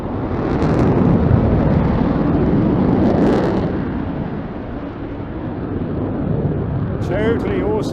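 An RAF Typhoon fighter jet flies an airshow display at Eastbourne, its loud broadband jet roar swelling and easing steadily over the whole stretch, with a commentator speaking over it.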